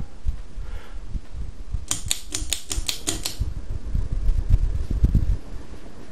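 A Casablanca Lindbergh ceiling fan motor runs at medium speed with a soft, steady hum, joined midway by a quick series of sharp clicking ticks, then a low rumbling swell.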